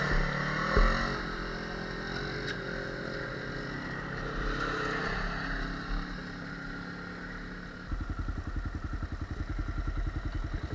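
Dual sport motorcycles, a Kawasaki KLR650 and Suzuki DR650, riding off-road with a steady engine drone and wind rush, the rider's bike near and loud, turning into a rhythmic thumping idle toward the end.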